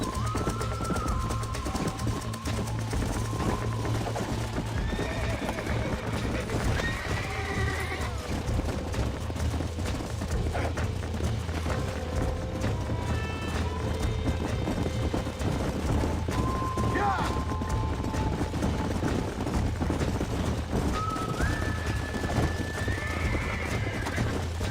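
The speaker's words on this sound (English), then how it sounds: "Ó o cavalo aqui." In the Red Dead Redemption video game, a horse whinnies several times over a steady clip-clop of hooves, with background game sound and occasional talk mixed in.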